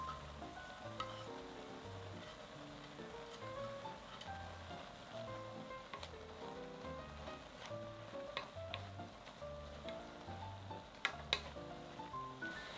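Sliced radish stir-frying in a pan with garlic and tuna sauce, a soft, steady sizzle with occasional light clicks and stirring, faint under gentle background music.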